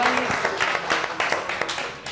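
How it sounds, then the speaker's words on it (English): Steady applause from a small crowd, a dense patter of clapping that carries on throughout at moderate volume. "let's give them a round of applause"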